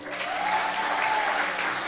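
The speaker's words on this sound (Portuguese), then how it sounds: "Palmas para o Lorenzo" A church congregation applauds during a sermon, steady dense clapping from a crowd filling the room at an even level throughout.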